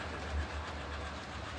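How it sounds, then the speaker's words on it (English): A model railway train runs past near the signal box on a home layout, a low steady rumble with faint rail clicking, close by and without speech. "Just zoom in a bit and watch trains going past this bit."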